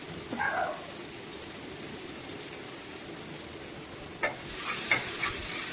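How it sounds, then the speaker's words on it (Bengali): Chopped onions frying in oil for rohu fish posto make a soft, continuous sizzle, with a couple of utensil knocks near the end. "এরপর পেঁয়াজগুলিকে গোল্ডেন ব্রাউন করে আমরা ভেজে নেব।"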